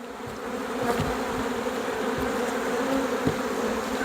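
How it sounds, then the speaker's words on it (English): Honey bees swarming around a swarm box make a steady, dense buzzing hum that fills the whole stretch, close and even, with no voices over it. "you can see the bees inside the box here"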